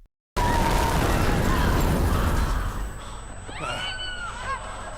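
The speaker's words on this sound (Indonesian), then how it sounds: "tiba-tiba terjadi ledakan" A sudden loud blast erupts after a brief silence, followed by a rumbling, crackling roar that slowly fades as whistling, shrieking tones rise over it.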